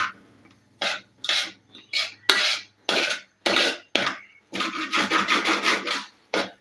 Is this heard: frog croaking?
no